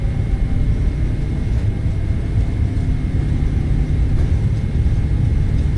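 Boeing 777 engines at takeoff thrust in a flight simulator set at Changi produce a loud, steady, broadband roar with a deep rumble, unbroken and constant throughout.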